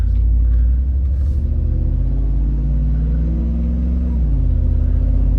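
A Cadillac Escalade engine pulls hard through second gear, a deep, loud, steady rumble heard from inside with the pitch rising gradually and then dropping sharply near the end at the upshift.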